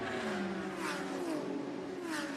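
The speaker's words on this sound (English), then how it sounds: "the sound of these cars is absolutely phenomenal" DTM race cars accelerate at the Norisring street circuit, a loud sustained engine howl with rising pitch sweeps as a car pulls away, then another passes close behind.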